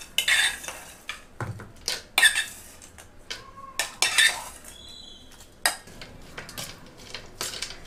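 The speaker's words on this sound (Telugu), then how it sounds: "ఇప్పుడు ఇందులోనే ఆల్రెడీ కొన్ని వేయించి పెట్టుకున్న డ్రై ఫ్రూట్స్ని వేస్తున్నాను" Roasted dry fruits tipped into a pan of sweet semiya made with dry coconut and stirred through, giving scattered close clinks and scrapes of a spoon against metal, with short rattling bursts and brief pauses between them.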